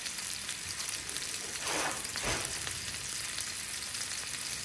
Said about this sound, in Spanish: Y vamos a empezar a saltear.